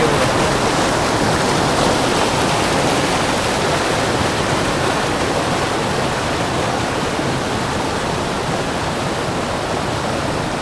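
Loud, continuous rushing of monsoon-season canal water, a dense unbroken roar that holds steady throughout with no voices.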